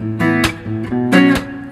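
Acoustic guitar picking the verse of a song, as played live, in a quick run of even sixteenth notes with two brighter strummed accents, close and clear with no voices.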